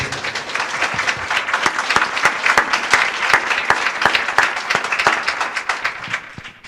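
An audience at a church teaching session gives a brother a burst of loud, sustained applause, with dense overlapping claps that run without a break throughout.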